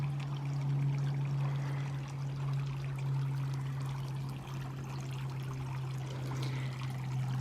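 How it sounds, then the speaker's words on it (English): A garden water feature trickles and pours steadily in a cottage garden, a continuous close wash of flowing water with a low steady hum running throughout, no talk. "Sound of the water feature is so lovely."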